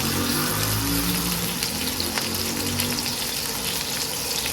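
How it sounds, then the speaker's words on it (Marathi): Stuffed bitter melons fry in oil in a pan with a steady, dense sizzle that holds at an even level throughout, close and continuous, with no voices. "आता आपण एक एक करून सगळ्या बाजूने ती छान अगदी परतून घेऊया"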